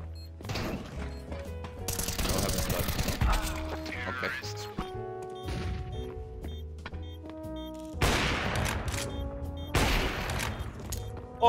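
Gunfire in Counter-Strike 2 rings out in several bursts of sharp, loud shots over game music and sound effects, with players talking excitedly throughout.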